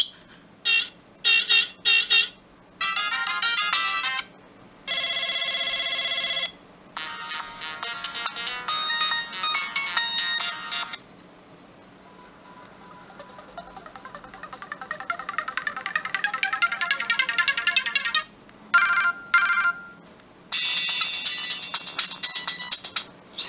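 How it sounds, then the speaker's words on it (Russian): Polyphonic ringtones from a Siemens M65 mobile phone with 40-voice polyphony, several bright melodic tunes in short bursts with brief gaps between them, loud and close with no talking. "Звуки тут 40-голосная полифония."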